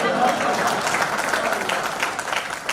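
Applause from the audience at a Hindi hasya kavi sammelan comedy poetry event, a broad, steady clapping wash at moderate loudness that holds throughout and eases slightly toward the end.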